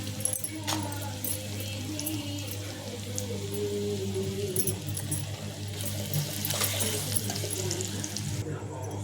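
Water splashes and sloshes in a bowl as soya chunks soaked in hot water are squeezed and washed by hand. The sound is soft and continuous, with a voice heard at times underneath.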